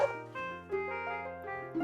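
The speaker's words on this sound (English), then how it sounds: "Dog." Short dog barks in The Legend of Zelda: Majora's Mask 3D, a few brief yaps spaced across the moment over a sustained musical backdrop, moderately loud and near.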